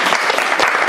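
Dense audience applause for an author at a book presentation, a brief loud burst of many hands clapping together.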